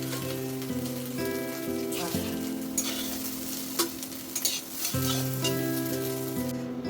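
Scrambled egg fries in a wok, a loud, close, steady sizzle with occasional stirring scrapes, over a constant low electrical hum and no speech.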